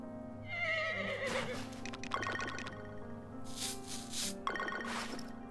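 A horse in the farming game Harvest Moon: Grand Bazaar neighs in a long, bright whinny, followed by rustling and brushing sounds and short synthesized chimes over a soft steady game-music drone.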